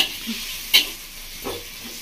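Green chili paste hits a pan of fried tomato and onion and is stirred, giving a soft frying hiss with a couple of brief scraping stir strokes, close and fairly quiet.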